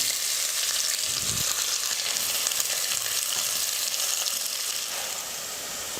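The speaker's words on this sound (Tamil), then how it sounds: "பெரிய வெங்காயம் 2 கட் பண்ணி வச்சுருக்கிறேன், அதையும் சேர்த்துக்கிறேன்" Sliced onions fry in oil with cloves and a piece of cinnamon, a dense, loud, even hiss of sizzling that holds steady close up with faint stirring, no talk.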